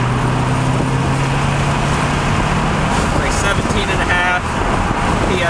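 A 2008 Subaru STI with a Cobb Stage 1+ setup accelerating at full throttle in 4th gear in Sport Sharp mode, a loud, continuous engine roar mixed with road and wind noise that stays steady throughout.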